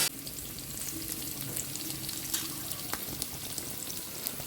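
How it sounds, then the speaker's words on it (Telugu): Capsicum fries in a pan, a steady, dense sizzle and crackle close up that holds throughout with faint occasional pops and stirring, and no one talking. "ఈ క్యాప్సికమ్ దోరగా వేగే వరకు వేగించుకోవాలండి"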